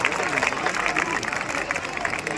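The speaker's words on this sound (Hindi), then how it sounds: "आइए इनके लिए जोरदार तालियां बजाएं।" Applause from an audience at a school event, a dense, continuous patter of many hands clapping with some crowd murmur mixed in, fairly loud for the whole stretch.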